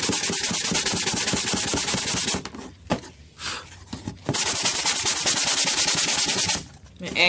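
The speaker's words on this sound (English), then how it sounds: "So now you can take this sanding block from the Dollar Tree." Dollar Tree sanding block rubbed around a handmade Christmas gift box to distress it, a loud steady rasping in fast back-and-forth strokes that pauses briefly in the middle, then resumes.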